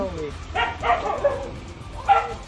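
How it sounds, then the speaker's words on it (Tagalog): An English Bulldog named Zoe gives a few short, gruff barks and yips spread over a couple of seconds, fairly close, against a murmur of background voices. "Meron siyang English Bulldog."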